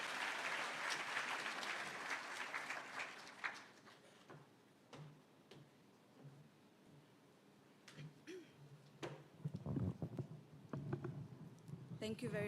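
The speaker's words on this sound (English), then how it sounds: "Let's give a warm round of applause." Audience applause at an engineering convention in Mombasa County, Kenya, a fairly quiet, short round of clapping from the hall that quickly thins into scattered claps and background noise.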